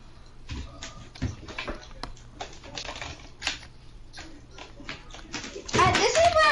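Rapid clicking of a computer keyboard being typed on during an online squads game, close and busy, with a voice in the background and a loud noisy burst near the end.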